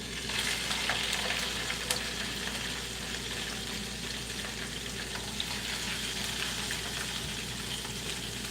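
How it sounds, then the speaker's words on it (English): Teriyaki salmon searing in a hot pan, a steady close crackling sizzle of oil and fish running continuously with small pops, no voices. "before I put my salmon in there, just so that it gets a nice sear on it"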